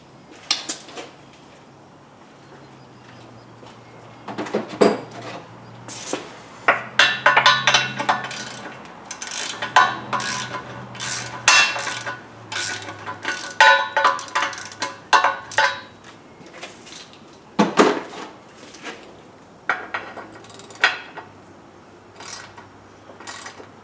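A wrench clicking as someone tightens the rear driver's side suspension adjuster on a car, an irregular run of ratcheting and metallic mechanical clanks, close and fairly loud, with a steady low hum underneath.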